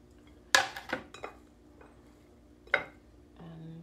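A spoon scrapes and clinks against a pan while chopped red onion, pepper and garlic are stirred, giving a few sharp knocks spaced out over quiet, steady kitchen background.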